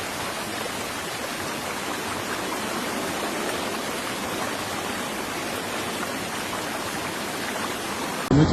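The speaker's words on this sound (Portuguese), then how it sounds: "é possível ver a água esvaindo-se para o mar da praia de Costa" Water drains out into the sea at Costa Azul beach as a steady broadband rush, like a strong flowing stream, loud and constant throughout with no voices.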